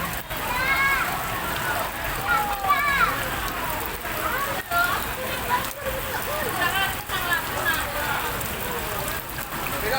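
Floodwater rushing through a swollen river in Medan, Indonesia, a steady broadband roar and wash running unbroken for the full stretch, with a voice talking over it throughout.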